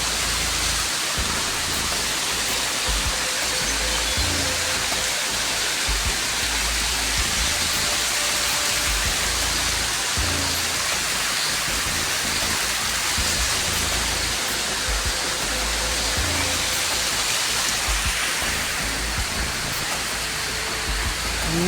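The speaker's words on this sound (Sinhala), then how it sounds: "දොළ පාරක් තියෙනවා" A small stream channel flows steadily beside an ancient walking terrace at an archaeological site in Gurulupotha, Sri Lanka: a continuous, even rush of water that holds at the same level throughout, with no voices.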